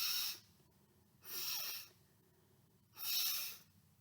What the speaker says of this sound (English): Can we help him and do our 3 sniffs?